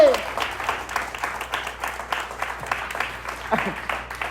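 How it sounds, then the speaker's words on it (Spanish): A church congregation applauds during an evening sermon, producing a continuous wash of clapping at moderate loudness over a low steady hum, with faint voices mixed in. "Aplauda al Cristo de la gloria en esta noche."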